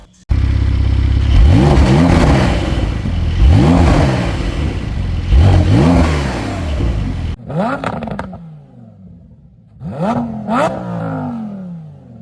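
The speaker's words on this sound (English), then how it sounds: "comparing the sound of both of these cars" A Lamborghini Huracan Sterrato and a Porsche 911 Dakar rev repeatedly, rising and falling in loud, close bursts, then a few sharper, quieter revs after a brief cut.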